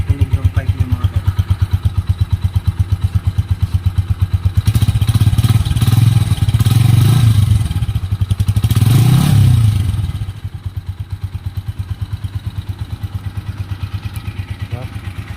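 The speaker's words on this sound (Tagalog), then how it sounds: "tunog ng pipe ng mga tol." Honda TMX 125 Alpha motorcycle exhaust, close and loud, idling with a steady rapid thump, then revved up twice to a louder roar before dropping back to idle.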